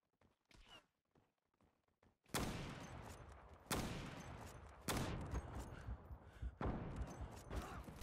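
Loud gunshots from a Cheytac M200 sniper rifle in the online shooter Zula, sharp cracks spaced about a second apart with reverberant tails, following a few quieter muffled thumps.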